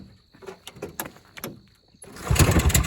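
An old Evinrude or Johnson snowmobile engine sputters through several uneven cranking bursts, then catches and roars into a loud, rough idle.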